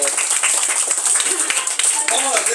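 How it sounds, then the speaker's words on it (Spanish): Guests at a child's sixth birthday party clap together in quick, close, continuous applause, with voices chattering over the clapping. "Aplausos, mamita, aplausos."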